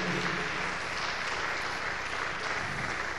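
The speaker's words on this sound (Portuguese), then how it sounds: "Aplauda ao Senhor." Church congregation at a prayer service applauding, a steady wash of many hands clapping at moderate distance, continuous and even throughout.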